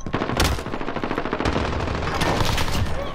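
Rapid automatic gunfire in a video game rattles out in a dense, continuous fusillade, loud and close, with overlapping shots and no pauses.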